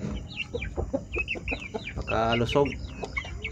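Gold shamo chicks and chickens cluck in short, repeated bursts, close and fairly loud, with a longer squawking call in the middle, while someone speaks briefly.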